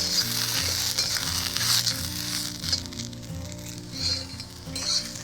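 Field beans (pavta) roast in one or two spoonfuls of oil in a pan over a village wood-fired stove, hissing and sizzling continuously up close. The frying is loud and steady, with occasional scraping stirs and background tones, and no talking.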